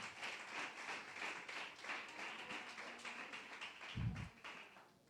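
Applause from a church congregation, a steady, moderately distant wash of clapping that fills the whole stretch, with a brief low thump near the end.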